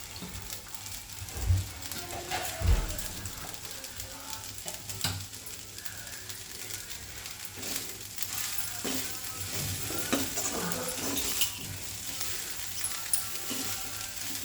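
Tomato fried rice being stirred in a pan in an Andhra home kitchen, a soft continuous sizzle with scraping spatula strokes and a couple of dull knocks against the pan.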